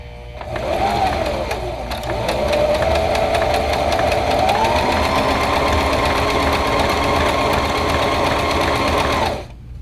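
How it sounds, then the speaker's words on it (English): A sewing machine runs steadily, stitching fabric for a pillowcase dress, a continuous close mechanical whir with rapid needle rhythm lasting nearly the whole stretch before stopping. "Okay, and then you just start sewing."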